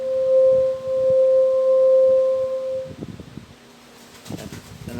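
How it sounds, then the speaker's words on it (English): A reference tone of the note C for tuning a ukulele holds as a steady, pure pitch for about three seconds, then stops, followed by faint handling noises and a few soft plucked-sounding taps. "the note of C, and then I can match the C string on my ukulele to the tone."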